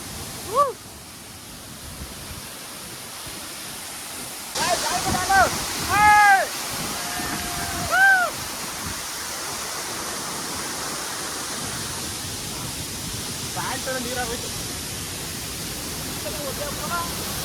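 A hidden waterfall at Kote Betta in Coorg roars as a steady, close broadband rush that runs without a break, while voices speak briefly over it near the start.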